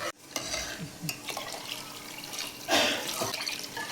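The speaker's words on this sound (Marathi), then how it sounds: "गरम केलेलं पाणी टाकून घेऊया." Hot water poured into a pot of sambar with cooked dal and sambar masala, a splashing gush rising near the end after some stirring and clinks, close and fairly loud.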